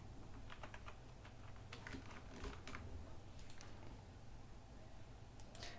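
Computer keyboard typing while entering logo text in Photoshop, with steady clusters of light key clicks at close range over a faint background hum, and no talking.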